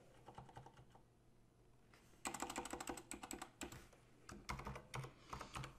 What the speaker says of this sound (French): je tape la commande php artisan make contrôleur